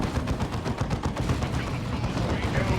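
Rapid bursts of gunfire from Ranger units in a Warhammer 40k Dawn of War 2 multiplayer match, dense crackling volleys repeating steadily throughout, with faint talking underneath.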